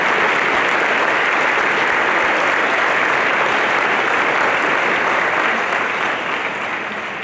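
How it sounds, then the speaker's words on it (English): A crowd at a 25th-anniversary celebration gives sustained applause, an even, loud roar of clapping that holds steady for several seconds before tapering off at the end. "Separate applause"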